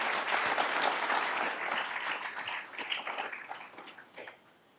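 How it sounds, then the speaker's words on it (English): Audience applause for a conference events team at an evening kickoff event, a dense, steady round of clapping that holds strong and then thins and fades out toward the end. "Let's give them all a round of applause,"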